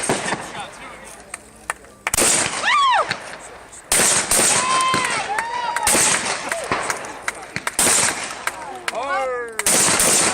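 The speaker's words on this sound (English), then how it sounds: "Let's warm up with some hip shots." Shotgun hip shots fired at targets in rapid succession, several loud sharp blasts spread across the stretch with brief gaps between them, close and dominant.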